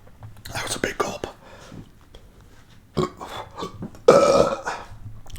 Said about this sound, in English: Yes, I had to burp. It was unavoidable.